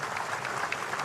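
Crowd applause at an Indonesian public gathering honoring infantry, cavalry, navy and Brimob police units, a steady dense clatter of many hands clapping together, moderately loud and continuous for about a second with no talk.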